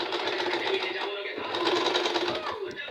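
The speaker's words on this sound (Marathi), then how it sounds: "अशा पद्धतीने 5 इंचावरती शिलाई देत आहे।" Sewing machine stitching along the side part of sari fabric, about five inches in, running loud and steady with a fast continuous whir, a brief pause midway, and a voice speaking over it.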